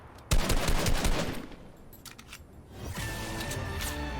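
Gunfire in the video game Fortnite: a loud rapid burst of shots hitting an enemy, fading out, then a sustained tonal game sound rising afterward.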